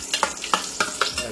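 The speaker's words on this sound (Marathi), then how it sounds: "कढीपत्ता टाकला, घालतो." Curry leaves added to a hot pan of oil crackle and sizzle in sharp, rapid pops, loud and close, over a brief moment with no talk.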